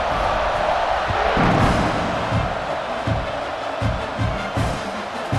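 Dense, continuous crowd roar filling a stadium in the video game EA Sports College Football 26, with rumbling low thuds and swells of cheering but no clear voices.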